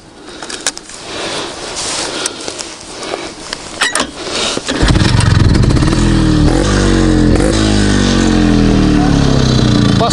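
An IZh motorcycle engine starts up and settles into a loud, steady idle rumble after a few seconds of scuffling and faint background noise.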